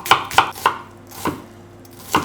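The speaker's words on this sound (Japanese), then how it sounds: "玉ねぎ繊維に沿ってね薄くスライスしていってください" Knife slicing an onion thinly along the grain on a cutting board: five crisp, close chopping strikes, three quick ones in a row, then a pause and two more spaced apart, with no talk.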